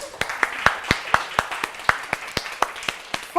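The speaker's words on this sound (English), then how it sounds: "we have to give them a clap" A small group of women claps in a slow, steady rhythm, about a dozen distinct claps evenly spaced at moderate volume in a quiet room, with no talk over them.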